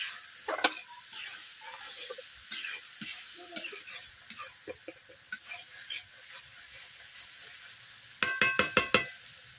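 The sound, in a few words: spice masala gravy being sautéed in a wok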